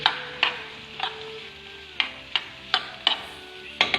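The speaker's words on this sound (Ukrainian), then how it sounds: "на вершковому маслі з додаванням олії обсмажуємо цибулю." Chopped onion frying in butter with a little added oil, a soft steady sizzle broken by about ten sharp scraping strokes of a spoon or spatula stirring the pan at irregular intervals; no one speaks.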